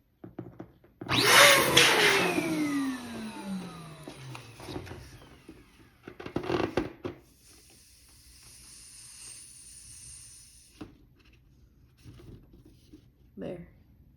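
A hand-held air pump pushes air into a balloon in two hissing bursts, loud and close, with softer rubbery rustling and faint handling noises in between.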